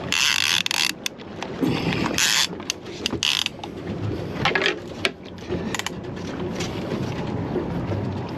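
A fishing reel's drag ratchets in rapid bursts of clicking after its lever is bumped while fighting a fish offshore in the Florida Keys, loud and close, mixed with wind and boat noise in irregular surges.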